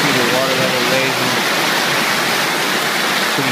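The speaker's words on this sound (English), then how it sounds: "now filling the backwash trough as we raise the water level" Water rushing into the backwash trough of a granular media filter as the level rises, a loud, continuous broadband roar like a waterfall with no pauses.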